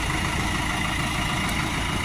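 A Solis 105 tractor from Sonalika sits idling with a steady, low diesel rumble that holds constant throughout and is heard from outside the cab, with no speech.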